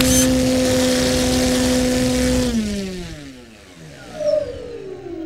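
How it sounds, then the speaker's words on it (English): A T-Motor AM780 electric motor spinning a propeller on a watt meter test for a 78-inch plane gives a loud, steady whine and buzz. After about two and a half seconds it spins down, its pitch gliding lower before a brief rise. "Here is the watt meter test for the T-Motor AM780."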